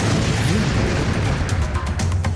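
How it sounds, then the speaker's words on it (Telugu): A firecracker bomb goes off in a loud, close burst during a Diwali scene, followed by a rumbling, crackling wash of noise with a few sharp pops near the end. "ఇంకో బాంబు పేలిందా?"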